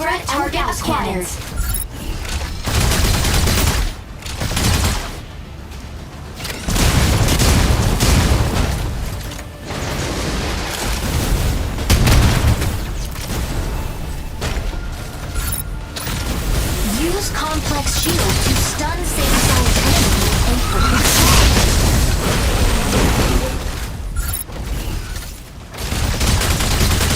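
Cannon fire and explosions from mech combat in the game Mecha Break, dense and continuous bursts rolling through the whole stretch at close, loud level with a voice talking over the action.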